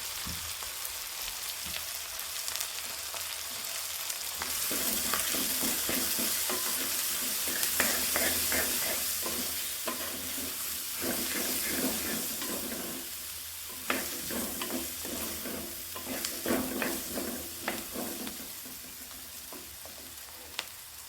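Shallots and ginger garlic paste frying in oil while being stirred for onion mutton sukka, a steady close sizzle with scraping spoon strokes and crackling bursts throughout, no one speaking.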